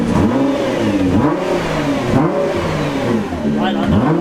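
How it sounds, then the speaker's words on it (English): A Nissan GTR's engine revs repeatedly in rising and falling sweeps, loud and close, with people talking over it. "Rev it a little bit."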